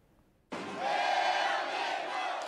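A crowd of more than ten thousand at Daegu Samsung Lions Park erupts into loud sustained cheering and roaring for a World Cup football match against Mexico, rising abruptly from near silence.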